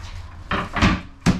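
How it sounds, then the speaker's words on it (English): Small dinette drawers in a travel trailer slide and bump shut, giving three quick close-range wooden knocks and rattles in a short burst. "Little drawer right there. Another drawer on this side."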